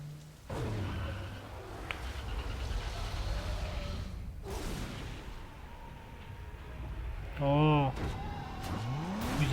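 A car engine revs and roars steadily in the racing game Need for Speed Most Wanted, with a couple of sharp bursts and a brief voice near the end.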